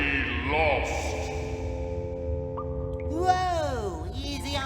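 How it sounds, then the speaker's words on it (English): Echoing, reverberant tones inside a cave corridor in The SpongeBob SquarePants Movie video game on PC, with pitch-sweeping chirps and sustained ringing tones that smear and trail off, heard alone at moderate loudness. "Easy on the reverb there, Ringo."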